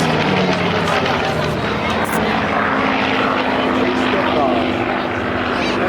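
Two propeller aircraft, one in Southeast Asia markings, arrive in the circuit at the Biggin Hill Air Fair, their loud, droning engines thrumming steadily while a commentator talks over them.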